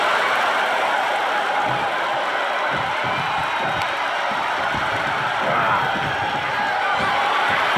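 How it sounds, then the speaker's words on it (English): A deafening crowd in an animated fighting battle cheers and roars continuously and loudly, a dense wash of voices with scattered shouts and thumps throughout. "The sound of this crowd is deafening"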